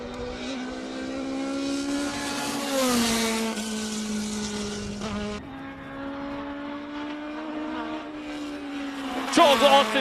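A 1979 Mark 79A classic race car on slicks, with a 2-liter four-cylinder engine, howls past at Speed Classic Cape Town. Its engine note climbs and shifts midway, then surges again toward the end.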